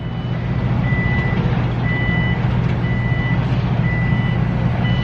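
Construction vehicles sound reversing beeps at a building site, a regular series of evenly spaced electronic tones repeating over a loud, steady engine rumble, heard from a moderate distance with no talking.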